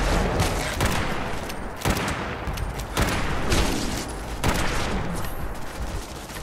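Heavy gunfire in Fallout 76 on Xbox One, a sustained barrage of close, loud shots with a few sharper cracks standing out at regular intervals over continuous rattling.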